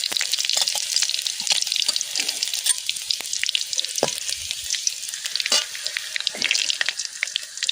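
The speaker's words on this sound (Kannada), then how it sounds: "ನೋಡ್ರಿ ಜೀರಿಗೆ ಸಾಸಿವೆ ಚಟಪಟ ಅಂತ ಸೌಂಡ್ ಮಾಡಕ್ಕೆ ಸ್ಟಾರ್ಟ್ ಮಾಡುತ್ತೆ" Cumin and mustard seeds splutter in hot oil, a loud and steady sizzle peppered with quick crackling pops that continues throughout.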